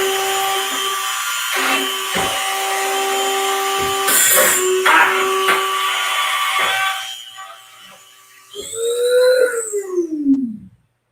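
A Dremel rotary tool whines at a steady high pitch while drilling, broken by several short bites and pauses, then falls silent before spinning back up with a rising, wavering whine that winds down at the end; loud and close.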